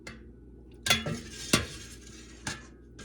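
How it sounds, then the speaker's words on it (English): Mozzarella cheese curds gently stirred in warm whey, with a few distinct clinks and knocks of a utensil against the pot spaced across a quiet, soft background. "we just want to gently stir those a little bit"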